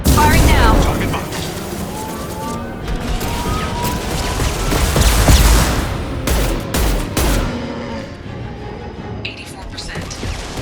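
Gunfire and booming blasts in Mass Effect Legendary Edition, a dense, loud barrage of shots and rumbling explosions with game voices speaking over the battle.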